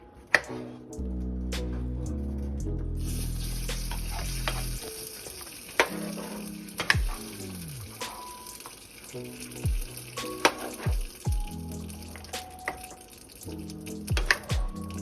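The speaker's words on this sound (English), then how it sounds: "So now that we have our sauce in here, I'm just going to move it around a little bit." A pan of guajillo chile sauce sizzles steadily while a utensil stirs and scrapes through it, with clinks and swishes close by and no talking.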